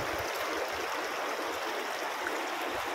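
A river flows in a broad, constant rush of water close by, with no other sounds standing out.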